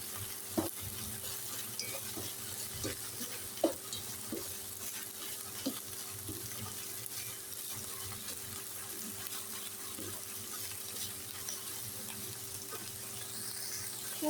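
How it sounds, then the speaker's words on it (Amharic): Chicken with garlic and ground onion frying in a pan, a quiet, steady sizzle with occasional soft clicks and stirring taps, fairly faint and continuous throughout. "እንደምታዩት ስጋችን እየበሰለ ነው፣ ዶሮአችን ማለት ነው።"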